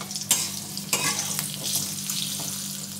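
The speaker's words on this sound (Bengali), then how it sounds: "আলুটা একটু কষিয়ে নেব" Thin-sliced medium potato sautés in a pan, a soft steady sizzle broken by a few sharp scraping stirs of a spatula, close and fairly quiet with no voices.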